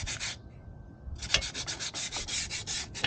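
Sandpaper rubs back and forth on a worn bike brake shoe during brake drum cleaning, a close, steady run of rhythmic scratchy strokes after a short pause, with no talk.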